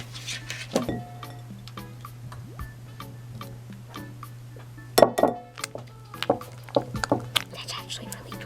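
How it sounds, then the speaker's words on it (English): Clear glue slime mixture stirred in a bowl: sparse clicks and clinks of a utensil against the bowl, getting busier and louder in the second half, close up, over a low steady hum. "we're gonna pour about a teaspoon worth and mix it in with our glue until the slime forms"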